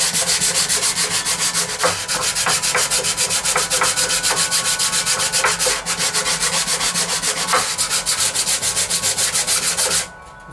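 Steady, loud abrasive rubbing of sandpaper over wood coated with pore filler, continuous for about ten seconds with faint scratchy strokes, then stopping abruptly near the end.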